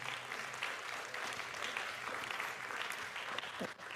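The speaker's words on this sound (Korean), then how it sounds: "저희 박수로 이 오픈을 같이 시작하면 좋겠습니다." A church young-adult congregation applauds to open an open house, a soft, distant, even patter of many hands clapping that holds steady for several seconds.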